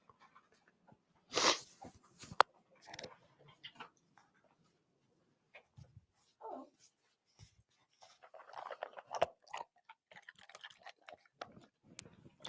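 A person crunching biscuits close to the microphone, with several bursts of crisp chewing separated by pauses and a few scattered clicks.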